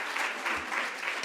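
Applause from a studio audience or panel at the close of a Spanish-language talk program on women in the media, a steady broadband patter of many hands lasting about a second with no voices over it.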